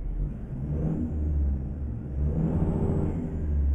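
A heavy truck engine in American Truck Simulator drones and revs steadily, a low rumbling hum rising and falling slightly as it pulls, close and continuous with no talking.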